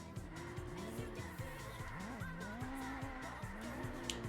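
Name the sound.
Honda NSX racing downhill, tires squealing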